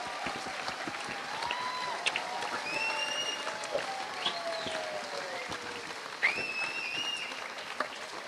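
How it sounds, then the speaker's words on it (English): Audience applause for a guest at a rugby event, a steady wash of clapping from a crowd lasting several seconds, with faint chatter and whistles mixed in. "could everyone please give a big round of applause for Mr. John Inverdale?"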